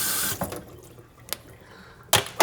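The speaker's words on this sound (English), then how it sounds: "running water." Tap water runs into a kitchen sink after cabbage has been drained, coming in short splashy bursts with quiet gaps between them; no one speaks.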